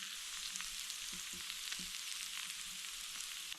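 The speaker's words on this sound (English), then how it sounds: "We're gonna finish cooking these potatoes really quick." Potatoes fry in a pan over a fire at a winter survival camp, giving a steady, close sizzle with soft crackles and occasional stirring, with no talk.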